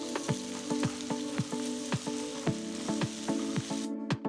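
Chopped tomatoes sizzle in a pot with ginger-garlic paste and green chillies for a paneer biryani, with steady frying crackle and regular stirring scrapes, before a sharp drop near the end.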